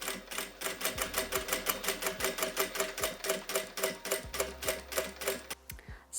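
A sewing machine runs a straight stitch through fabric for a hook-and-eye top, a fast even chatter of needle strokes in a steady rhythm, close and alone, stopping briefly near the end.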